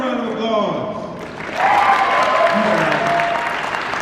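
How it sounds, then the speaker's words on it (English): A talking voice opens, then a fan convention crowd breaks into loud, dense applause that carries on to the end, with faint cheering mixed in. "Give yourselves a round of applause."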